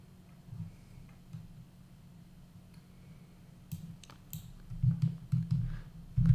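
Soft, sparse keyboard taps from typing on a computer keyboard grow busier toward the end, close and fairly quiet over a low hum, with no voices.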